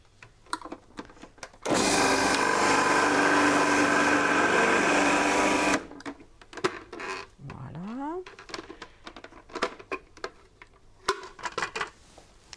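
A Magimix food processor running as a juicer roars loudly and evenly for about four seconds, then stops. Clatter and handling noises of parts being fitted follow.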